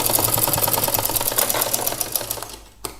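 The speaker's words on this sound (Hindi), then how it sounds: "ये सिलाई कर रहे हैं दोस्तों।" A sewing machine stitching the seam of a petticoat runs in a fast, even mechanical chatter, loud and close, continuing steadily before slowing and stopping near the end.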